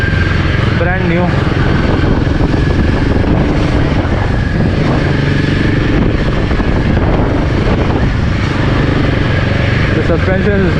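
Royal Enfield Himalayan 450 motorcycle on a ride, a continuous engine drone mixed with heavy wind buffeting, loud and close throughout.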